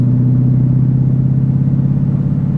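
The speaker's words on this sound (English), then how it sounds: "Man, there's a lot of traffic today." Heavy road traffic produces a loud, steady low rumble of engines, a continuous close drone with no break and no voices.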